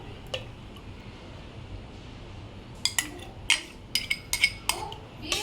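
Spoon clinking against a glass while rose syrup is stirred into a chilled falooda mixture, with a few scattered soft taps early and a quick run of sharp metallic clinks in the second half.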